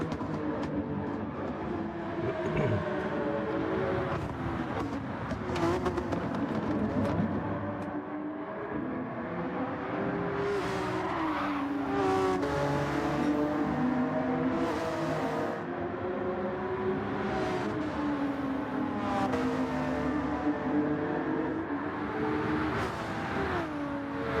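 Race cars accelerate through corners in Gran Turismo 7, engines revving and shifting pitch continuously over sustained loud engine drone, with repeated rising whines as throttle comes on out of turns.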